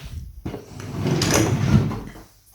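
A hair care drawer slides open or shut in a home during packing for a house move, giving a close, loud, rumbling scrape that runs for about two seconds after a soft knock.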